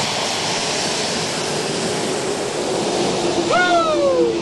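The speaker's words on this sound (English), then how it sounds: "when you have an airplane coming right past you and just spraying up that much water is awesome" A Boeing 747-8 freighter rolls down a runway at about 30 knots during a water spray test, throwing up a loud, steady rush of spraying water with jet engine roar, a whine rising near the end.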